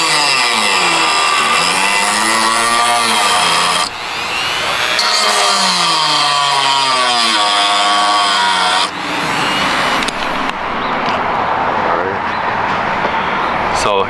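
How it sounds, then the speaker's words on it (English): A Dremel rotary tool grinds a groove into the top of a stuck plastic screw on a GTI brake caliper, a loud, high whine that bogs and recovers in pitch, cutting out briefly twice before starting again. "Back with the Dremel."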